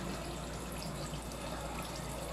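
Water from an artesian well runs through an underwater pipe into tubs, a steady faint wash of flowing, trickling water with no other sounds.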